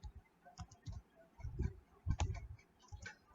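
Soft, irregular keystrokes on a computer keyboard, a quiet run of close-up clicks and taps in uneven bursts, no voices.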